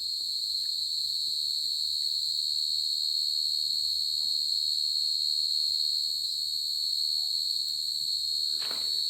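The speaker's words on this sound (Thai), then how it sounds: "จิ้งหรีดก็ร้องร้องนะครับ เสียงจิ้งหรีดนะครับร้องนะ" Crickets chirp steadily at night in a high, continuous drone throughout, with faint scattered rustles beneath and no voices.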